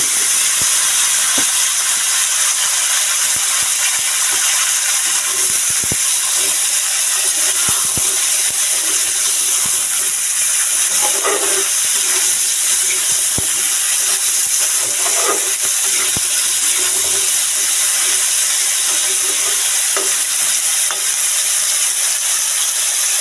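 Vegetables hitting hot oil with toasted cumin while cooking sabudana khichuri, a steady close hiss and sizzle running throughout with faint clinks of stirring.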